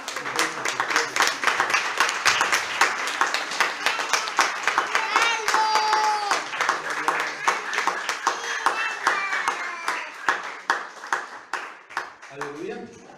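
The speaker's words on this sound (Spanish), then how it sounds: "Dale una ofrenda de palmas al que vive." A church congregation claps together in a rhythmic, even beat, many hands close and loud, keeping time for several seconds with voices singing and calling over it, slowing and thinning toward the end.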